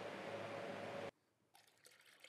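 Water rinses parts from an industrial pocket hole machine being restored after a Simple Green hand wash: a steady rush for about a second that cuts off abruptly, then faint clinks and light handling noises.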